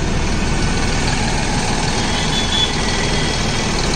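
A Deutz-Fahr Agrolux 70E CRDi 4WD tractor engine idles close by, giving a steady, even rumble with no change in pitch and no voices.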